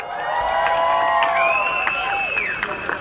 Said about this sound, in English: Give them another round of applause, Chicago.